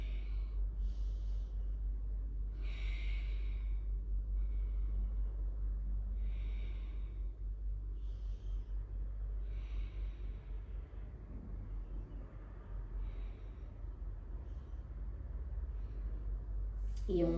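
Slow, deep breaths during a yoga session, each long inhale and exhale rising and falling in a steady rhythm, close and soft over a low background hum, with no talking.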